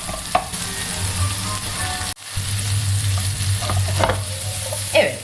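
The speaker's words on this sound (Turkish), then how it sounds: "önce biberlerimi şöyle birkaç dakika kadar soteleyip yumuşatacağım" Peppers sautéing in a pan for a shrimp stew, a steady close sizzle with occasional spoon scrapes and stirring knocks, briefly dropping out once before continuing.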